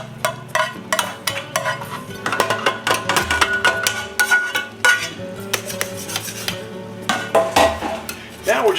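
Meat is stirred into sofrito in a pan, with a steady sizzle and repeated scraping and clinking of a utensil against the pan, close and fairly loud.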